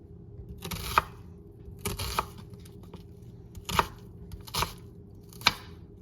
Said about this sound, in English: slices into the onion all the way through, and then turning it and going back the opposite direction.